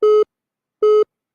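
A telephone busy tone after a call is cut off gives two short, steady electronic beeps, evenly spaced and clear, with silence between them.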